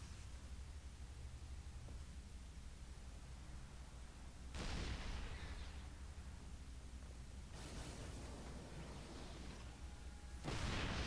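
Tanks firing in a video game match: a few heavy, booming blasts with noisy tails rise out of a constant low battle rumble at spaced intervals.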